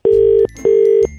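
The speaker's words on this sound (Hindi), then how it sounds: "फोन घंटी बज रही है" A telephone rings with two steady electronic tones, each lasting about half a second and separated by a short gap, loud and close with no talk over it.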